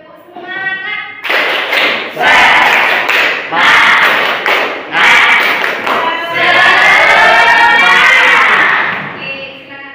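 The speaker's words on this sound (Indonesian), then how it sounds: "Yuk, tepuk semangat." A classroom of schoolchildren does a rhythmic spirit clap together, loud and close, with bursts of patterned clapping and thumps building in sequence over about eight seconds, voices chanting along.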